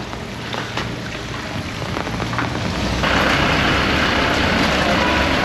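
Rain falls steadily on the streets of Darjeeling around Mall Road, a dense hiss that grows louder and heavier partway through, with no voices.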